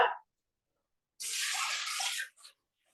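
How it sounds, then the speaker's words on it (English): Tap water running into a Thermomix TM6 bowl, a close steady hiss and splash lasting about a second, then cutting off with a brief trailing splash. "I'm just going to fill this with some water."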